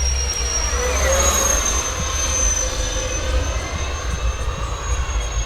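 An FMS A-10 Warthog 1500mm RC jet, powered by twin 70mm electric ducted fans on a 5300 mAh HV pack, takes off with a steady high-pitched whine over rushing air, sustained at moderate distance.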